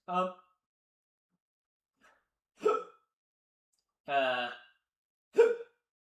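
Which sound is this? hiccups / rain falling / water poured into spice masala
hiccups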